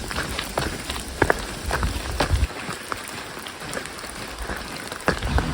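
Rain falls on a forest hiking trail in Galicia along the Camino de Santiago, a steady soft patter broken by scattered close drips and taps striking nearby surfaces.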